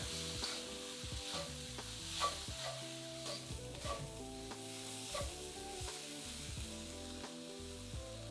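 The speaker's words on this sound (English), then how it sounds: "Then stir fry that for another 5 minutes, keeping the mince moving around the wok." Minced beef stir-fried in a wok with white pepper, a faint steady sizzle broken by repeated scraping strokes of the spatula, close by and with no talk.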